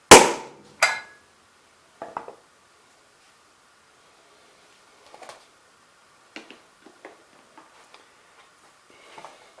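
A Remington 456 Mighty Mite powder-actuated tool fires with a sharp, loud bang right at the start and a second crack just after. Scattered light metallic clicks and handling knocks follow in otherwise quiet surroundings.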